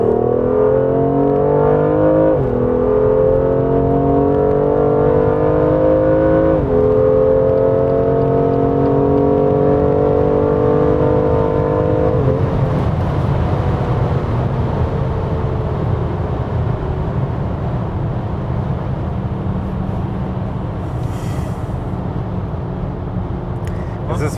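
A Stage 1 software-tuned BMW M2 Competition accelerates hard from 100 to 200 km/h on the Autobahn, its loud engine drone rising steadily in pitch through several gear changes, heard from inside the car.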